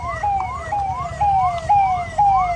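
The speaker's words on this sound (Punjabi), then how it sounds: "ਐਂਬੂਲੈਂਸ ਵੀ ਆ ਗਈ ਵੇ ਪੁਲਿਸ ਵੀ ਆ ਗਈ" A loud ambulance siren wails in repeated rising-and-falling sweeps at the scene of a road crash between a bus and a combine harvester, close and continuous over low traffic rumble.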